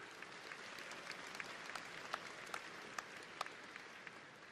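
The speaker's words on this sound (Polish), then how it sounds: "gromkie brawa jeszcze raz dla Witolda Tumanowicza" An audience at a Konfederacja party programme convention applauds steadily, a soft, distant wash of many hands with a few sharper claps standing out, no voices on top.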